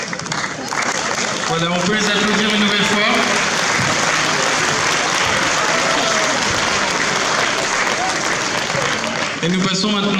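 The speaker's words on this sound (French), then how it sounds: "on peut les applaudir une nouvelle fois." Sustained, loud applause from an audience at a youth chess championship prize ceremony in Agen, filling about eight seconds between a presenter's announcements.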